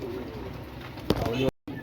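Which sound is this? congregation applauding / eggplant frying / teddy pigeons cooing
teddy pigeons cooing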